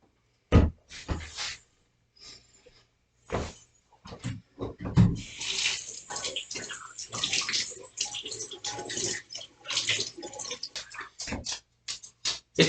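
Running water from a kitchen sink tap as hands are washed, with irregular splashing and knocks, some sharp bumps early on, then steady close rushing water.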